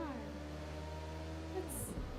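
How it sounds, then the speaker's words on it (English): A car engine in the video game Watch Dogs: Legion drones steadily at a constant pitch, then its tone shifts and climbs as it revs near the end, moderately close. "Is that my car making that noise?"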